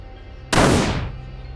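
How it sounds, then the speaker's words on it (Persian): A single loud gunshot sound effect from a crime story bursts sharply out of a low background hum, then decays over about a second. "ارون گلوله دوم شلیک کرد"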